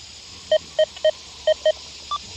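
An XP Deus 2 metal detector with an HF 2 coil gives short, clean beeping tones during an air test, five matched pips in an uneven rhythm followed by one higher, softer beep, over a faint hiss.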